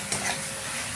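Onions fry in a pan with ground spices, salt, turmeric and sugar, a steady close sizzle with stirring scrapes and a brief louder rustle near the start, no voices.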